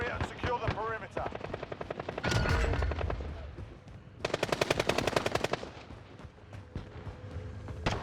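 Call of Duty Warzone combat with bursts of machine-gun fire, crisp rapid rattles in two main volleys amid explosions, a whirring helicopter-like drone and occasional voices.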